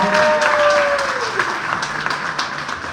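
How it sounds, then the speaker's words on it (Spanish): Audience at a school event applauding the school director, a full, steady round of clapping heard up close, with a fading sustained tone at the start and a few louder individual claps standing out. "Un fuerte aplauso."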